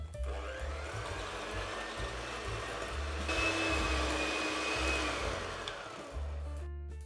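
An electric mixer creams soft butter with sugar, a steady close motor whir with a rhythmic low churning pulse that rises slightly in pitch midway, no voices.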